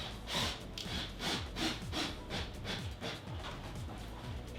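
A driver sends screws into a cork tube during a gecko habitat build, giving a steady, rhythmic grinding and rasping with repeated pulses, close and continuous with no talk.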